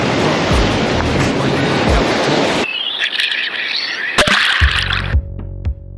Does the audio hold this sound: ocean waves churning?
yes